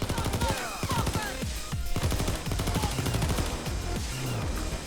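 The Queen's Wrath L85 assault rifle firing in Payday 2, rapid sustained bursts of close, loud automatic gunfire with sharp cracks and brief pauses, with no talking.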